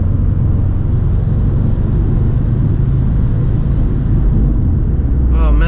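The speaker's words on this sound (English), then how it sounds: "that turbo sound just sounds so nice" Subaru WRX turbo engine droning steadily from inside the car while driving, a dense low rumble with continuous road noise and a faint rising whistle near the end.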